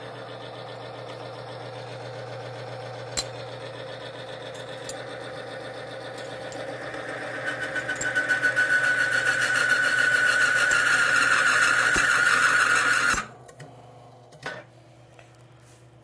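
A Timken bearing test machine runs with Thixogrease in a steady mechanical hum, swelling into a louder, harsher whine as it strains, then cutting off abruptly, leaving only faint background noise.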